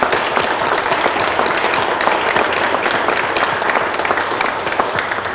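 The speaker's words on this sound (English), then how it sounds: "Maybe a round of applause for everybody who came out." Loud, sustained applause from a public audience at a People's Budget community meeting, an even wash of many hands clapping without a break for the whole stretch.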